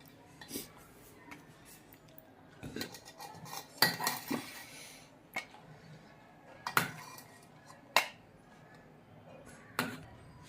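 A spoon scrapes and clinks against a dish while homemade khoya gulab jamun in syrup are served, producing scattered sharp metallic taps and clatters at close range.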